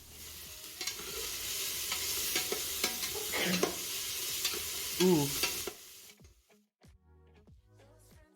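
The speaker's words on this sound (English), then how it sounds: "When the onions hit the pan, the cooker, they start sizzling" Steady loud sizzling from onions frying in a pan, with a few stirring scrapes and clinks; a brief exclaim cuts in before the sizzle drops away to quieter clatter.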